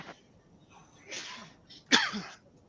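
A short nasal intake and then a sudden sharp sneeze, fairly close, with faint breathy sounds before it.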